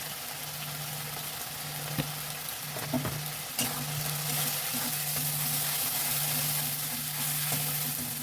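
Turmeric and Kashmiri chilli powder fry in hot oil on a gas flame, a steady close sizzle running throughout with a few stirring scrapes and knocks early on, and no talk.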